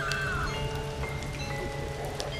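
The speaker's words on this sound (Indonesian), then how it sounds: "hujan mulai turun dengan derasnya" Rain falls steadily in a dense, even hiss with scattered drop patter, fairly soft and continuous throughout with no voices.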